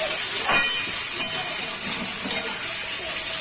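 Onion, tomato and capsicum sizzle in hot oil in a pan, a steady close hiss of frying with faint crackles throughout.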